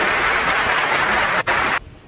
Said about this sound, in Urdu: ایک مرتبہ زوردار تالیاں والیاں بجا دیجیے